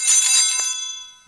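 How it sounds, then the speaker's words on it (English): An altar bell rung by the server at communion during a Traditional Latin Mass gives one bright, close chime that rings out and slowly fades, with no speech. "the server rings the bell each time the celebrant strikes his breast"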